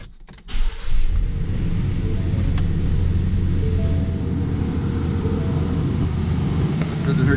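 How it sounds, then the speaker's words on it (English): A 2019-2021 Ford Ranger truck engine cranks and catches within the first second, then settles into a steady, close, loud idle that continues to the end. "I'm also gonna get the truck fired up real quick"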